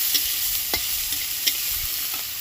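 Chopped onion, garlic and capsicum for chilli kabuli fry in a pan with a soft continuous sizzle, broken by a few sharp scrapes and clicks as a spoon stirs them, and no voices.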